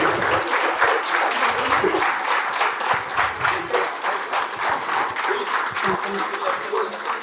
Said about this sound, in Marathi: जोरदार टाळ्या वाजवा शिरोडकर मामांसाठी